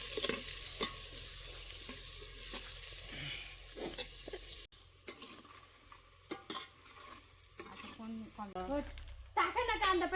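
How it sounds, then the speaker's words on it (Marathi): Onions frying in hot oil in a pan over an outdoor wood-fire stove, a soft sizzle with scraping and stirring knocks, overlaid by voices and outdoor background sounds. "कांदा आपण फ्राय करून घेऊ."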